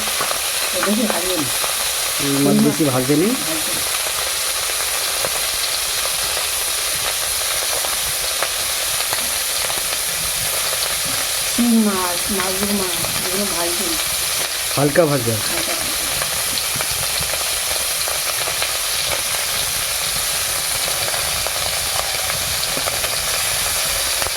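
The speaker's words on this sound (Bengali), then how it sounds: "একটু হালকা ভেজে নিলেই হয়ে যায় বুঝতে পারছেন আমাদের ভাজা হচ্ছে" Gule fish fries lightly in oil in a pan in a village kitchen, a loud continuous sizzling hiss throughout, with someone speaking briefly over it at a few points.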